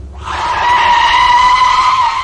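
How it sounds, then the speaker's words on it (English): Car brakes slammed on hard, tyres skidding with a loud, sustained screech that rises quickly and holds for about two seconds before easing, with no talk over it. "Ginger applied the brakes so hard"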